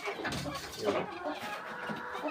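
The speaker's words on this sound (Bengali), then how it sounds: "এই দেখেন আমার ফার্মের মুরগি এখন কম" Several chickens cluck and murmur together on a small poultry farm, a close, steady mix of bird calls with low farmyard background noise.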